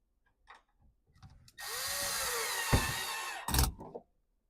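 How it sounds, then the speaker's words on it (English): A power drill whirs steadily for about two seconds, driving a screw through a mounting clip into kitchen cabinetry with a rising pitch, then stops with clunks and handling noises around it. "I'm going to use the drill"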